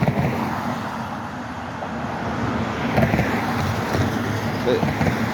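Cars pass on Blue Hill Ave in Boston, a continuous broad traffic rumble with a vehicle swelling past midway, while a person talks over it.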